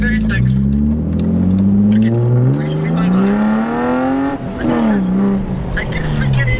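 A BMW E36 325i with its muffler deleted revs hard, the raw engine pitch climbing and falling in loud sweeps, close by in a garage setting, with voices talking over it.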